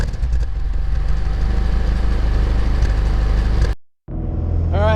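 A car with a loud aftermarket exhaust idles after a cold start, a steady low rumble lasting nearly four seconds. It cuts out abruptly, then the rumble returns with a high whining note rising over it.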